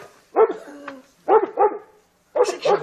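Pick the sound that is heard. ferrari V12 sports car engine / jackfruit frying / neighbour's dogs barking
neighbour's dogs barking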